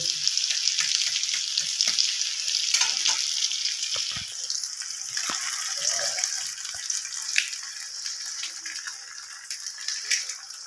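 Three eggs fry in a pan with onion, green chili and tomato, giving a steady close sizzle with stirring scrapes and small pops throughout.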